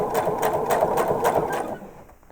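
A sewing machine runs steadily, stitching facing strips onto a quilt with a continuous mechanical whir and rapid needle ticking, close and fairly loud, slowing and stopping near the end.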